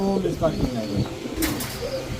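Lahori pigeons give a few soft, rolling coos over a brief moment, close by and fairly quiet, mixed with people talking.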